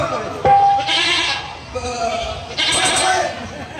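A goat bleats several times at close range in a noisy outdoor setting, with short wavering cries spread through the moment while people talk and chatter around it.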